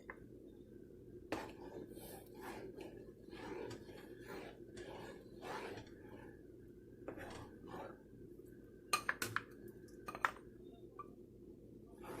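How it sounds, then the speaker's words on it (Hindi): A spoon scrapes and clinks against a pot or bowl while an apple vanilla dessert mixture is stirred, with soft intermittent stirring noises and a few sharper metallic taps near the end, fairly quiet and close. "इसको चम्मच को हिलाते जाएंगे"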